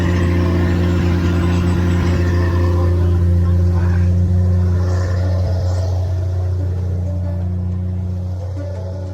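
A 1983 Jeep CJ engine idling steadily and loud at close range, a deep continuous rumble with a slight rise and fall in pitch and no voices over it.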